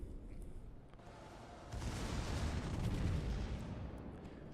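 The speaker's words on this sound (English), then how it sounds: "Main battery goes out." Warship main battery guns fire in a naval combat video game, a heavy rumbling salvo swelling midway and rolling on as a dense, sustained roar with no voices.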